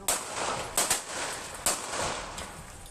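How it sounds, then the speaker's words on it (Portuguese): Gunshots fired from inside a car by a robber and an accomplice during an attempted carjacking of a woman: a few sharp, fairly distant cracks in quick succession over a noisy background. "o bandido que está na direção atira. Um comparsa faz mais disparos."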